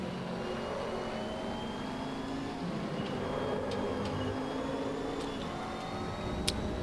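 Race car engine in Assetto Corsa, a racing game, droning steadily with shifting revs and whine through a continuous stretch, fairly quiet and without speech.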